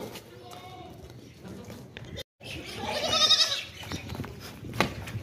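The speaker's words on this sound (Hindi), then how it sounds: "ये 2024 की कुर्बानी का बकरा चेक कर लें भाई" Goats at a livestock sale of milking does, kids and sacrificial bucks for Qurbani give a few bleats amid a noisy outdoor pen, with people talking throughout and animals moving about.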